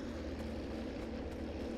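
A persistent aircraft engine drone from the Battlefield V audio bug on Fjell fills the air, a constant propeller-like hum with a pulsing low rumble, steady and loud, with no talking.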